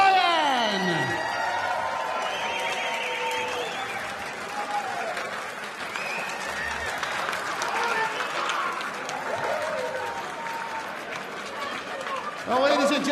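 Crowd applause and cheering for a darts player after a quarter-final at the WDF Lakeside World Championships 2025, continuous and lively throughout with whoops, with an announcer's voice over it.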